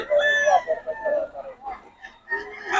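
Local banded stag roosters crowing close by in a busy market setting, several overlapping drawn-out crows in quick succession, with brief gaps between calls.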